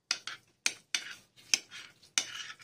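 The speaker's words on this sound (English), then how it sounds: "I stir it." Spoon scraping and clinking in a bowl as Greek yogurt is stirred with vanilla essence and sugar, about six crisp strokes in an irregular rhythm, close and clear with no talking.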